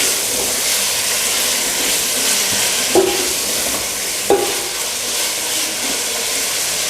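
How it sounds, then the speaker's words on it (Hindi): Beef qeema frying in a pan for a home recipe, a steady close sizzle and hiss of browning mince with two brief metallic clinks from the stirring spoon. "कीमे को हमने अच्छी तरीके से भून लिया है"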